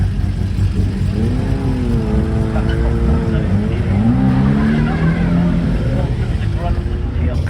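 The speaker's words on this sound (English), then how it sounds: "We'll film this Ferrari taking off." A Ferrari's high-performance engine revs and climbs through rising tones as it accelerates away from a start line, with voices talking over the roar.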